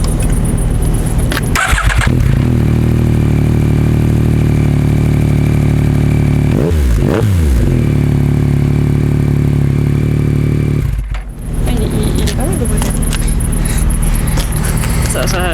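A 2021 Yamaha MT-09 motorcycle fitted with a non-homologated exhaust, idling with a loud, close rumble, briefly revved twice, dipping for a moment near the end before resuming its steady throb.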